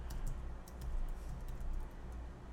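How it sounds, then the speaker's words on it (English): Typing on a computer keyboard, a quick run of soft close key clicks in an uneven rhythm over a quiet room, without any voices. "So I'm going to type in beta tester,"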